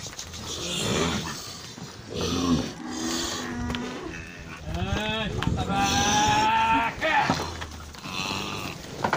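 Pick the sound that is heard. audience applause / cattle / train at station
cattle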